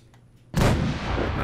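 Artillery in the Fallout 4 video game fires, a sudden loud boom after a quiet moment that rolls on into a sustained roaring blast and rumble, close and heavy, with no talk.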